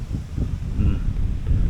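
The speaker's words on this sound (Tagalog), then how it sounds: "kay grabing lakas ng hangin" Strong wind buffets the microphone outdoors while travelling in Pangasinan, a constant low roaring rumble filling the short stretch with no clear voices.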